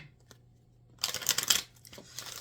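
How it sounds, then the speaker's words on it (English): A quick burst of papery riffling from crisp cards being shuffled, close and fairly loud, after a second of near quiet. "Let me shuffle these cards up again."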